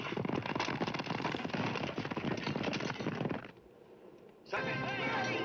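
Gunfire from the 1949 western film She Wore a Yellow Ribbon, a dense, continuous crackle of rapid shots mixed with other film sound. It drops briefly, then returns with a bright tonal sound layered over it.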